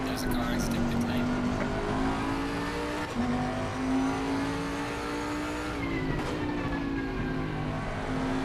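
A race car engine in Gran Turismo 7 holds a steady high drone as it pulls out of pit lane, with brief gear-change dips and a second car rising in pitch late on.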